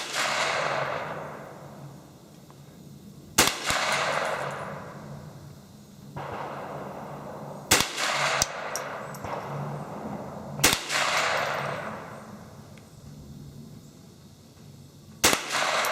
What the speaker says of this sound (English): I think you just shot 4 rounds in the size of a quarter